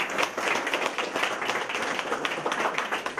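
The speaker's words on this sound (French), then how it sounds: "On va les applaudir, je pense, aussi," Guests at a partner evening at the Valencey hotel clap for the hotel team, a moderate room full of individual hand claps with audible separate slaps, continuous for a few seconds.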